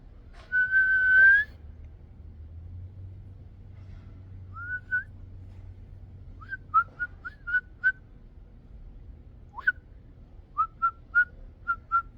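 A blade of grass held between the thumbs and blown to make whistles: a long reedy squeal at the start, then a series of short, sharp chirping whistles in bursts, close and alone over a faint low background rumble.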